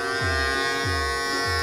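A small electric knife sharpener's motor runs with a loud continuous buzzing whine, pulsing in a regular rhythm roughly every 0.6 seconds, close and without talking.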